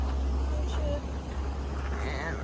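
Road traffic rumbles past at a busy road crossing on a rainy day, a low steady vehicle drone with passing whooshes while a person talks over it.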